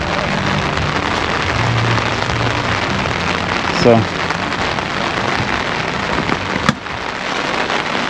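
Steady rain pours down on surfaces nearby in Jamaica, a constant loud hiss with a brief knock or two and a short spoken word.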